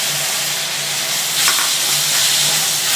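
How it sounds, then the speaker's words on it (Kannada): Ground masala paste sizzling and frying in a pan with browned onions for spicy capsicum chilli chicken, a steady close hiss with a faint scrape of stirring partway through. "ಇದನ್ನು ಚೆನ್ನಾಗಿ ಮಿಕ್ಸ್ ಮಾಡಿ ಹುರ್ಕೊಳ್ಳೋಣ, ಹಸಿ ವಾಸನೆ ಹೋಗೋವರೆಗೂ"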